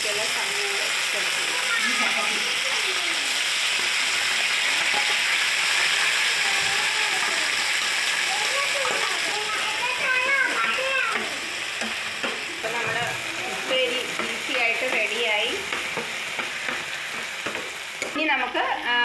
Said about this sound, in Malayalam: അപ്പോൾ എണ്ണ ചൂടാകുമ്പോൾ കുറച്ച് കറിവേപ്പില ഇട്ട് കൊടുക്കുക